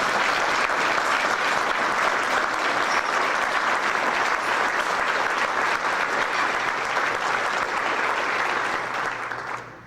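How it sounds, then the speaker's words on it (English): A standing audience at a Rotary club meeting claps in a full, sustained round of applause, thick and even throughout, tapering off only at the very end. "Let's give a nice round of applause."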